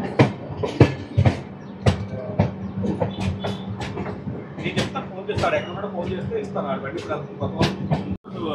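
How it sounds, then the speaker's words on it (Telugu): A train on the Visakhapatnam–Araku line runs along its rails with a steady rumble and irregular clacks and knocks as it moves, while people talk over the noise. "మా ట్రైన్ అయితే స్టార్ట్ అయిపోయింది"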